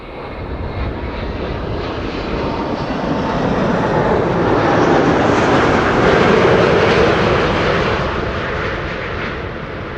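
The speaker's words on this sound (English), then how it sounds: "Emirates Flight 147 arriving from Dubai" An Emirates airliner arriving from Dubai at Amsterdam Schiphol Airport roars past, its engine noise swelling to a loud peak midway and then slowly easing as it moves on.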